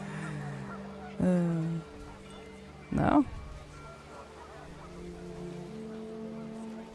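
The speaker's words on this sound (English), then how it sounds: "The wind picked up and panicked geese appeared and quickly went." Panicked geese in the video game What Remains of Edith Finch give two short, loud honking bursts a couple of seconds apart, over a soft rainy, windy background with a brief spoken word.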